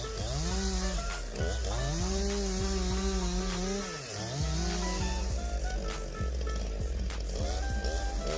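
Stihl MS261 chainsaw cutting a large tree, loud and close, its engine rising and falling in repeated strokes as the chain bites through the wood.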